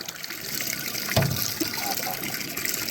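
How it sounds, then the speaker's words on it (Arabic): Water poured into a tube on a hot day, a soft steady flow with one brief splash partway through, under faint background noise. "نزيد عليه الماء في التيو"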